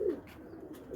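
Pigeons cooing softly nearby in a loft during deworming, a low murmuring coo at the start and again at the end of a short moment, no talk.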